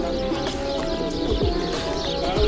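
Pigeons cooing in Pigeon Valley, Cappadocia, on a snowy day, soft low coos repeating under steady outdoor ambience, with no voices.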